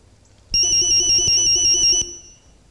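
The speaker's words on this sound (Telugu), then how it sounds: "నా సెల్ కూడా రింగ్ అవుతుంది?" A mobile phone ringtone plays loud and close for about one and a half seconds as a steady electronic melody with a repeating beat, then stops abruptly.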